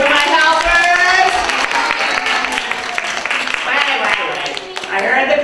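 Children at a magic show clap and cheer loudly for the helpers, with excited shouting voices all through it.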